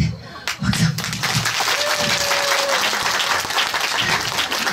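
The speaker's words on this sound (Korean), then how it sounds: "다시 한번 우리 단원들한테 박수." A festival crowd at the 2017 Hapcheon Daeya Festival gives a loud, dense round of applause for a pumba troupe's performers. It sounds steady and sustained, with a brief voice and a short whistle-like tone inside the clapping.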